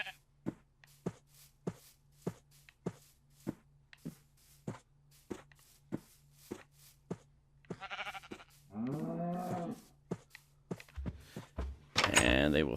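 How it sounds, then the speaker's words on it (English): Minecraft farm animals, a cow and sheep lured with wheat near a fence gate, give short bleats and moos. A steady run of sharp, evenly spaced clicks or steps comes first, and the calls follow near the end, close and clear. "And now we've got a cow and a sheep."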